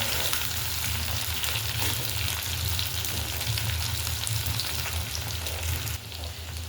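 Chicken meat frying in a pan until browned, giving a steady, loud, dense sizzle with crackling close by, continuing without a break and dropping slightly in level near the end; no one talks.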